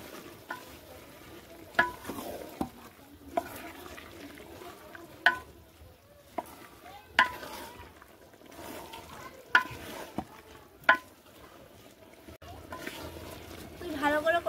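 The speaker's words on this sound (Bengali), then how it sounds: "দিয়ে ভালো করে নাড়াচাড়া করে নিতে হবে।" Soaked paneer is stirred in a pan of cooking masala: a spatula scrapes and knocks against the pan every second or two over a low, soft sizzle, while a voice talks quietly in the background.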